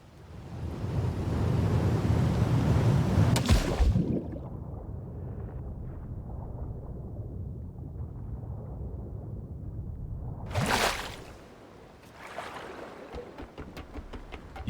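Diving into water in the video game The Last Caretaker: a loud rushing splash, then muffled underwater ambience, another sharp splash as the swimmer surfaces, followed by quieter dripping and sloshing.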